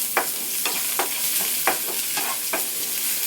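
Shallots and curry leaves sauté in a pan under a steady, bright sizzle, with a spatula scraping and stirring in about six regular strokes, heard close and alone with no talking.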